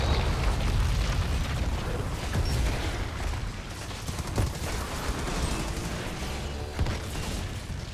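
Enemies blow up in the video game Outriders, a dense, continuous barrage of explosive bursts and booms with gunfire-like crackle, loud and close, with no speech.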